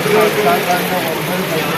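Light drizzle patters steadily at an outdoor market, a close, even hiss of fine rain on surfaces, with people talking.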